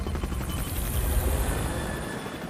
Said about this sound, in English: The two stealth helicopters managed to cross the border to Pakistan undetected.